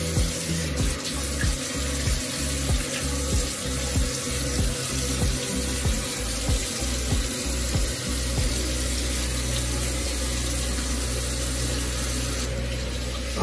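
Warm water runs steadily from a bathroom tap into a sink while someone washes their face, a continuous close splashing stream with small rhythmic splashes and no talking.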